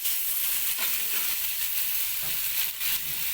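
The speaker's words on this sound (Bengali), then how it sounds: "এবার আদা রসুনের পেস্ট দেওয়া হচ্ছে যাচ্ছে দেখুন" Ginger garlic paste hits hot oil with fried onions for an egg and potato curry, producing a steady close sizzle with occasional stirring scrapes in the pan.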